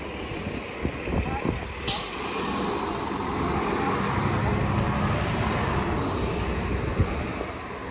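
A subway shuttle bus turns on a street in East New York, Brooklyn, its engine rumble rising and holding steady nearby with a brief hiss early on.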